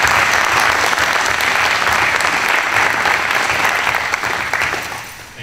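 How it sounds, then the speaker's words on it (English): Sustained round of applause from the audience at a Roswell city candidate debate hosted by High Meadows School, dense and steady clapping that gradually fades over the last second. "I'd like to give High Meadows a round of applause."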